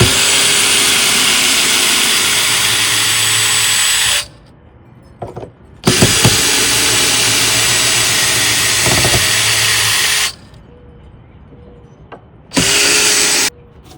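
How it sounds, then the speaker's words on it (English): A power drill backs screws out of an old deck board in loud, sustained whirring bursts separated by short pauses, with a few clicks and knocks between the runs and no speech. "and backing out these screws"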